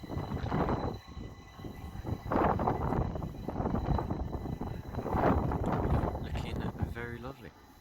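A train rolls through Clapham Junction station amid blustery wind, giving a loud, churning roar that surges and eases, with a brief high squeal near the end.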